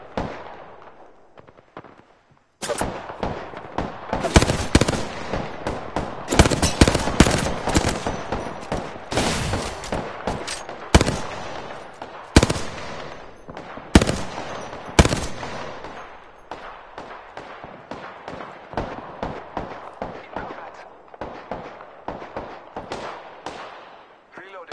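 Rapid bursts of video game gunfire in a PS4 shooter, loud and near, with dense overlapping volleys and sharp individual shots crackling over several seconds, tapering into scattered sporadic shots.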